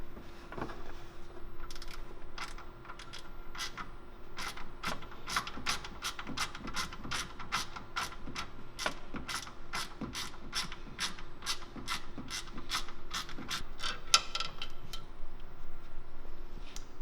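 Ratchet wrench working on a Toyota Tacoma power steering cooler line, a steady train of sharp, evenly spaced clicks from close by over a low hum, no speech.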